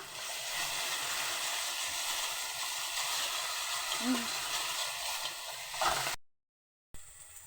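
Garlic paste sautéing in a pan while cooking khichuri, a steady close hiss of sizzling that runs unbroken before briefly cutting out near the end.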